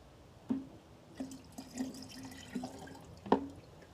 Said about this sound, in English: I'm going to pour it in here.